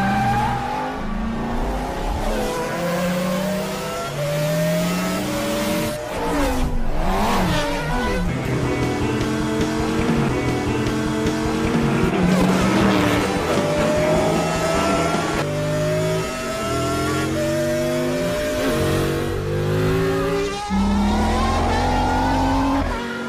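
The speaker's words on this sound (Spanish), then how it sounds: "Esto significa que los prototipos de Mans y los autos Fórmula arrancarán de manera espectacular." Le Mans prototypes and Formula race cars from the animated film Cars 2 accelerating hard on a Japanese street circuit, loud high-revving engines climbing through gear changes with overlapping cars and occasional tire squeal, no talking.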